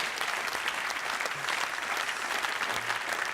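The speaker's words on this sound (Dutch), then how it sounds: "Een applaus voor Sharon Walraven." Dense, loud applause from a gala audience at the 2008 Limburg sports awards, continuous clapping filling a large hall with no talk over it.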